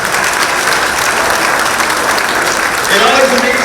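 A large audience applauds hall of fame inductees at a high school induction ceremony, dense sustained clapping filling a hall, loud and steady throughout, with a voice briefly emerging near the end.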